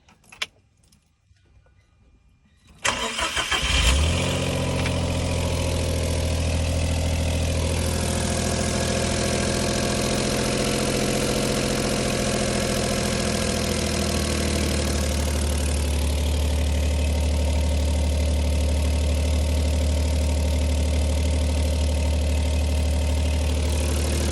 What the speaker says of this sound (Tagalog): So ngayon paanda rin natin, subukan natin kung ano yung boses ng ating sasakyan